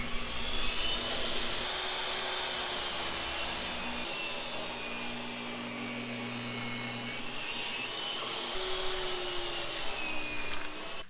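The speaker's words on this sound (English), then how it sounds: "I'm going to rip some of these down at the table saw" A table saw rips painted wooden boards that were glued edge to edge into panels, with a continuous spinning whine and rough cutting noise running steadily throughout.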